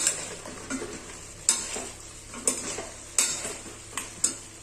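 Masala paste being stirred into fried mutton for a pepper gravy: a spoon scrapes and clinks against the pan about five times in a steady rhythm, close up, over a low, faint sizzle.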